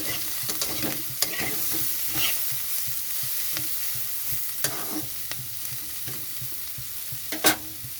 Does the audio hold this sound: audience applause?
no